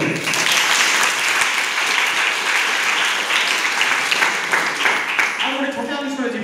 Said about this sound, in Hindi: जोरदार कर ताली दियो।